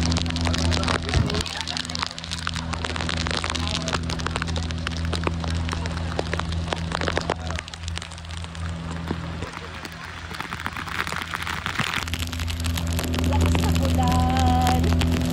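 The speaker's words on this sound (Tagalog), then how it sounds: "Lakas ng ulan. Umulan na naman." Heavy tropical rain pours and hisses steadily during an island-hopping boat tour in El Nido, a dense close wash of drops drumming on surfaces, with a low engine-like hum underneath and a brief crack early on.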